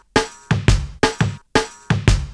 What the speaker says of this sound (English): On these two offbeats, I've added a filtered kick,